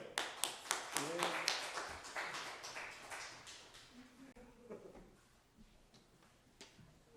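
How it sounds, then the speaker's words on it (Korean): A church congregation in Korea claps, starting with a burst of sharp, close claps that thin into scattered ones and fade out, while voices talk over and after it. "박수!"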